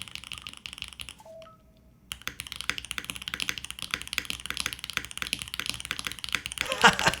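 Rapid typing on a custom-built mechanical keyboard with fruit smoothie switches, a dense run of close, crisp clacky keystrokes after a short quiet pause and a brief soft tone.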